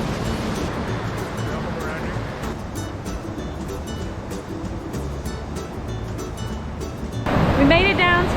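Whitewater River in Sapphire Valley, western North Carolina, rushing steadily as broadband roar close by, continuous and loud, briefly under a voice, with a louder surge near the end.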